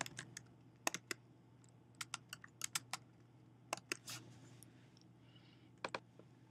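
Keyboard keys clicking while CSS code is typed on a computer, a quiet, uneven run of sharp taps in short bursts with brief pauses between them against a low steady hum.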